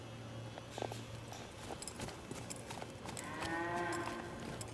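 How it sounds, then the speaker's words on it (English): Cattle low and moo on a cutting-horse ranch, heard faintly over steady background noise with a few hoof clops and no talk. "These cattle are getting a little testier."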